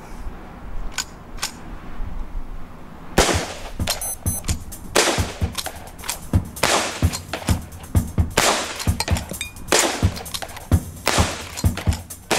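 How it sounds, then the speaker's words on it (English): Henry repeater rifle fired rapidly, a loud close series of sharp cracks in quick succession after a couple of isolated shots, with metallic action clicks between bursts and no speech. "With the Henry, the Lakota can fire 12 rounds in quick succession before reloading"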